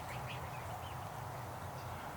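Ducks kept in cages around a kiddie pool in a barn quack faintly now and then over a steady low background hum, with no talk.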